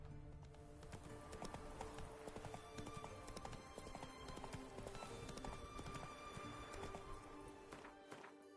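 Hooves pound in a fast clip-clop as a horse gallops in The Witcher 3: Wild Hunt, a steady rhythmic beat over game ambience with no talking.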